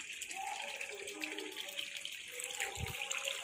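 Water draining from a small fish pond through a motor and hose, a soft steady splashing trickle, fairly faint and close, with a brief low thump near the end.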